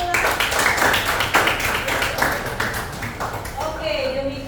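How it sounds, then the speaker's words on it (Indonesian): A class applauds after a student presentation with a short burst of brisk, close clapping, while voices talk over and after it. "Oke, kasih tepuk tangan."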